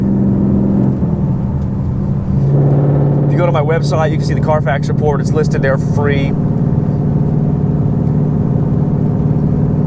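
A 2023 Ford Mustang GT Premium with a six-speed manual hums steadily while driving, its engine note low and constant beneath someone talking nearly throughout.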